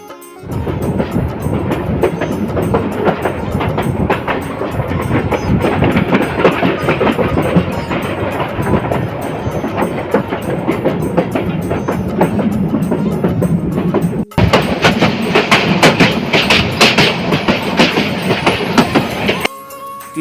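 The Teesta Express, a fast train, roars along the rails in Bangladesh, its loud, steady rumble carrying a rhythmic clatter of wheels throughout, with a brief dip before the noise resumes.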